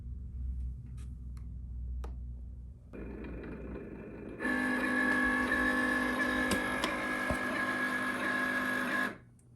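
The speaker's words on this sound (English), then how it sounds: "let's go ahead and power it on." A Cricut Explore Air 2 cutting machine powers on: a low hum steps up into a steady, louder mechanical whir with tonal motor lines, held for about five seconds before cutting off abruptly.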